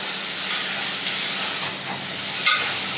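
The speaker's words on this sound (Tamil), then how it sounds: "இஞ்சி பூண்டு பேஸ்ட் போட்டுருங்க." Ginger garlic paste sizzles with tomato in a pan, giving a steady, close hiss of frying with faint stirring scrapes and a slightly louder crackle near the end.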